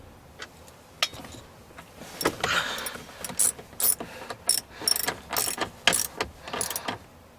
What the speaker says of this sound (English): Reinstall our lower dash cover bolts.